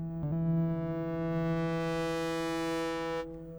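A single sustained Korg analog synth note rings out bright and harmonically rich, drenched in a vast cathedral reverb before cutting off near the end.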